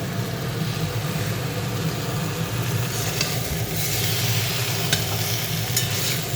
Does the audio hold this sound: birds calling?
no